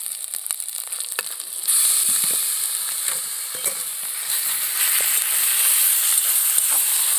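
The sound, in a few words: kohlrabi sautéing with ginger in a pan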